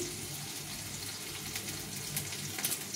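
Ground ginger, cumin, chili and coriander paste with turmeric and salt is mixed with water for a rohu fish curry, a close wet swishing and trickling sound that runs steadily with small splashes near the end.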